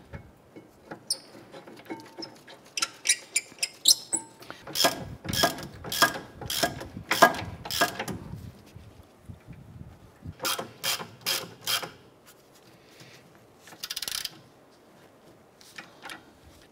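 Hand ratchet tightening the rear brake caliper bracket bolts on a 2009-2015 Honda Pilot, giving close bursts of rapid clicking with short pauses between them and some metallic handling clinks.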